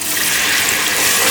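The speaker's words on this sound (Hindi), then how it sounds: "अब थोड़ा सा पानी डालना है।" Water poured into a cooking pot of fried garlic while making mutton yakhni pulao, a loud, close, steady hissing rush of liquid lasting a moment.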